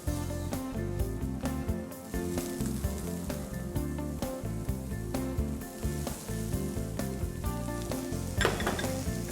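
Sofrito of finely diced carrot, celery and red capsicum sizzling in a hot pan for a fish chop with bean cassoulet, a loud continuous crackle with scraping stirs and utensil clinks over background music.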